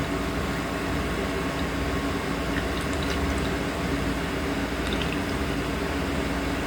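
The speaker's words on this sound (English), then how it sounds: "And water going down in there, and those wicks are wet" Water poured into the pot of a freshly re-potted hoya plant, a faint, steady trickle with a few soft drips and splashes over a quiet background hiss, no talking.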